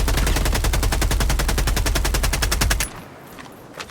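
Rapid machine gun fire from the shooter game Helldivers 2, a loud, steady burst of evenly spaced shots lasting nearly three seconds, then cutting off abruptly into quiet as the weapon stops.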